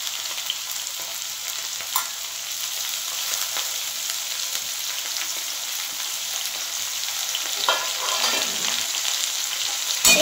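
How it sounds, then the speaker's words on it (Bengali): Chopped onion frying in a pan for a googly aloo posto recipe, a steady bright sizzle with occasional scrapes of stirring near the end and no voices. "পেঁয়াজটা দিয়ে এবার আমি এটা একটু নেড়ে নেব ভালো করে।"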